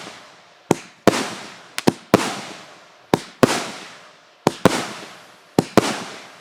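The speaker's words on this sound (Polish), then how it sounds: "Lecimy z wyrzutnią od Triplexa Space Universe 25 mm, 25 strzałów." A Triplex Space Universe 25 mm, 25-shot firework launcher fires outdoors: a string of sharp, loud launch thumps, often in close pairs, each trailing into a crackling, fizzing decay, with no talk over them.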